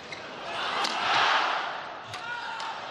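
Packed badminton arena crowd at the 2009 Sudirman Cup final, China vs. Korea, roaring together at match point for Lin Dan, a swelling mass shout that peaks and eases, with a few sharp thuds.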